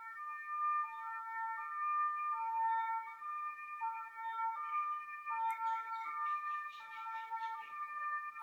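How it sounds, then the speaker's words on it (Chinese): An ambulance siren wails steadily in a traffic jam, its two-tone pattern repeating continuously and loud throughout, with a faint burst of background noise partway through. "今天塞车，救护车卡住了"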